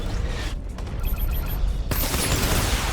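Barrage gunfire in the Batman: Arkham Knight video game roars as a dense, continuous rattle of shots, loud and close, swelling heavier partway through.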